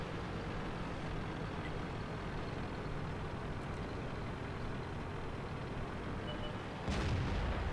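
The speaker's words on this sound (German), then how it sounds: "da schießt mir hier schon der Gegner eine Granate um die Ohren" An enemy tank shell hits near the player's tank in World of Tanks as a single sharp blast near the end, after a long stretch of constant low engine rumble with no voices.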